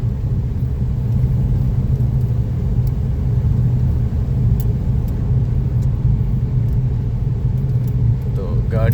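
Steady low road rumble and engine drone from inside a moving Toyota car, a continuous cabin hum holding at an even level throughout with no breaks.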